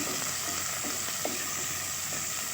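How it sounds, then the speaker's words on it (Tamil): Small shallots sautéing in a pan for a Tamil onion kara kuzhambu, a soft, steady sizzle with a few faint stirring clicks and scrapes, heard alone without talk. "ரெண்டுமே நல்லா கோல்டன் ப்ரௌன் வர்ற வரைக்கும் நல்லா வதக்கி விடணும்"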